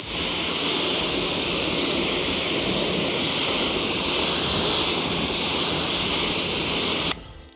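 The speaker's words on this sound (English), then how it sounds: "Let's give it a rinse." Water streams over a car panel coated with ceramic spray sealant, a loud, steady, close rushing spray that holds for about seven seconds and then cuts off abruptly.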